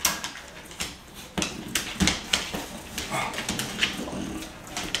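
Two rescued puppy mill dogs whimpering and yipping nearby in short, irregular bursts, with light shuffling and play noises between the cries and no talk.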